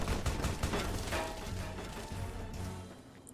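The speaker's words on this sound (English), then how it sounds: "Stop shooting at me." Gunfire in the video game Fallout: New Vegas, a dense volley of repeated shots and impacts that is loud at first and then thins out over a few seconds.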